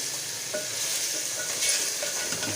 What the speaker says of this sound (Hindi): अब तकरीबन हम इसमें 1-2 मिनट तक और भुनेंगे।